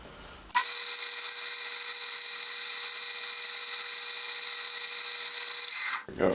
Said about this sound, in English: first we're going to drill a pilot